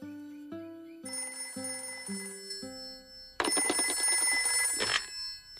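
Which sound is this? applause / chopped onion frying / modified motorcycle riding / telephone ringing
telephone ringing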